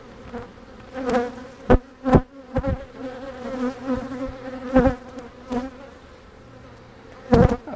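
Dense buzzing of many honey bees close by at an open hive, a continuous hum with individual bees droning loudly past at intervals.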